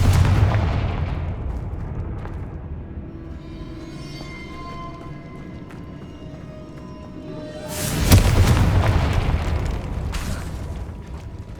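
In Hogwarts Legacy a Confringo blast spell goes off as a booming explosion, fading into a long rumbling tail, and a second heavy boom bursts out near the end.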